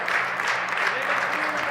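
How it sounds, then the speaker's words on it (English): Steady applause fills the hall for both darts players after a match at the BDO Namibian Open 2024, an unbroken wash of clapping at even loudness throughout. "Long applause now for both of these players."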